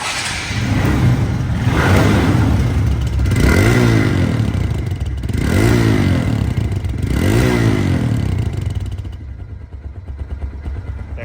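A TVS motorcycle engine, a clean secondhand bike in showroom condition, idles close up with a steady low rumble and several rising revs. The engine cuts off near the end and leaves a quieter tail.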